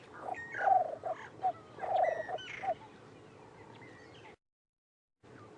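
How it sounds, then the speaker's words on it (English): Repeated soft Cape turtle dove calls in short phrases, with other birdsong in the background, then a brief silence and faint ambience. "It's the Cape turtle dove."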